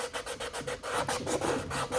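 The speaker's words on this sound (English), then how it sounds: "So if I just sand," Sandpaper rasps over a painted art piece in quick, regular back-and-forth strokes, about eight per second, loud and close with no voices.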